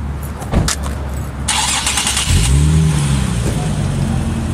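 An Infiniti G37 convertible cranks and catches, then settles into a loud, close engine hum as it pulls away, with a voice briefly audible nearby.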